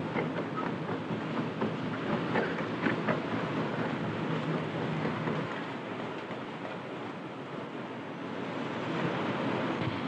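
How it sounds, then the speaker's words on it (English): An electric suburban train pulls into one of London's main terminus stations in 1944, a steady broad rumble with faint rhythmic clatter of wheels on rail, continuous and fairly close throughout. "Every 2 minutes, an electric train comes into this station"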